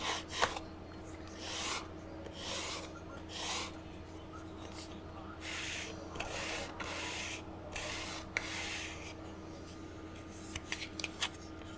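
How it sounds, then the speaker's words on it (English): A Dollar Tree fingernail file rasps back and forth along the edge of a model car part to flatten it, a close, rhythmic series of soft scraping strokes over a faint steady hum, with no talking. "What I do after I get done doing that is I take and I sand that edge flat again."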